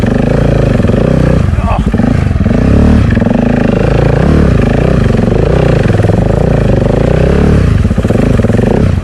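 An off-road motorcycle on the Creb Track in Cape York, its loud, close engine droning and revving continuously over rough ground, with wind and rattling throughout and voices mixed in.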